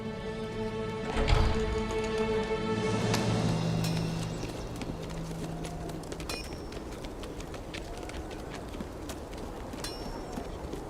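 Horse hooves clip-clop in a period drama setting, a brief burst of hoofbeats near the start under a swelling musical score, then fading as the music thins into a quieter, steady background.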